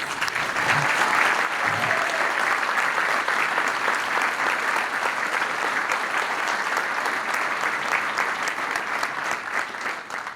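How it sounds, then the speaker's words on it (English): Long, steady round of applause from a prayer breakfast audience honoring students, a thick wash of many hands clapping that swells early and holds evenly to the end. "Let's give these students a round of applause, please."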